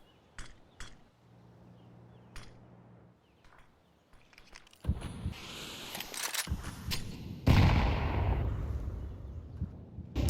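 Gunfire rings out during a Counter-Strike match: sparse sharp shots in quiet early on, then denser bursts of rifle fire and a loud burst of noise as smoke is shot open, near and intense toward the end.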